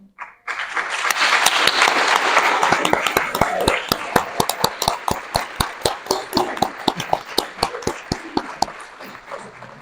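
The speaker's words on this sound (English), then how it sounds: "Could the folks from Valley Interfaith Project stand up so we can applaud you?" A graduation audience applauds Valley Interfaith Project members. Close, loud crowd clapping swells quickly, then thins into fewer, sharper individual claps that slowly fade.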